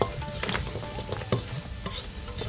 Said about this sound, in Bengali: সবগুলো দিয়ে এখন ভালো করে নাড়াচাড়া করে নিচ্ছে